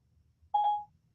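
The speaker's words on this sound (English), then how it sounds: "Call Bob Solari" A single short telephone dialing tone from a voice-assistant call on a phone, one clean electronic beep lasting about a third of a second, close and clear over a quiet background.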